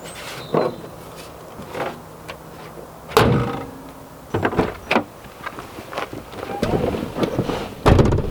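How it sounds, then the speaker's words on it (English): The hood of a Subaru Forester is dropped shut with a loud metallic slam, among several other knocks and clunks around the car, and someone talks at times nearby. "You can close the hood, it's done."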